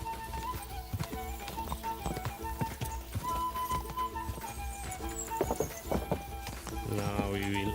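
Galloping hooves of a horse in Kingdom Come: Deliverance II pound in a fast, close clip-clop rhythm, joined by a whinny near the end, while a voice occasionally calls out over the hoofbeats.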